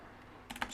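Keys on a computer keyboard are pressed in a short burst of quick, close clicks after a brief quiet moment, with no voice over them.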